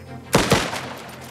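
Two sharp, loud blasts about a fifth of a second apart from a grenade going off in the video game Last Train Home, followed by a short rumbling tail, with no talking.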